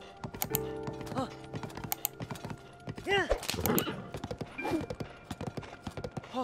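A horse in The Legend of Zelda: Tears of the Kingdom gives clip-clopping hoofbeats and a whinny, mixed with game sounds and keyboard-like clicks. Someone talks over much of it.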